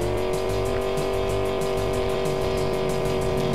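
Car driving in the video game EnviroBear 2000, its steady engine drone running continuously at an even level, with brief tire-squeal accents and a slight rise in revving at the end, with no talk.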